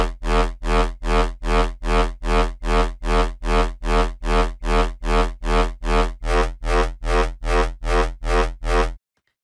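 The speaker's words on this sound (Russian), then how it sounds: "Послушаем, как будет влиять LFO 2 на тембр всего звука, долго удерживая какую-нибудь клавишу." A synthesizer preset holds a single key while LFO 2 reshapes the timbre, giving a steady rhythmic pulsing of about two beats per second that runs for roughly nine seconds before cutting off cleanly.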